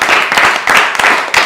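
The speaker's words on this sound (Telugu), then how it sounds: "సరే మరి ఒకసారి చప్పట్లు కొట్టండి" A group of children at an orphanage clap their hands together, a loud, close, continuous burst of rapid, uneven claps lasting a second or two.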